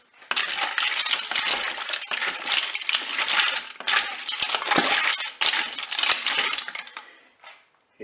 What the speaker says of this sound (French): Je vais replonger mes moules dans la sauce. Je vais mélanger tout ça.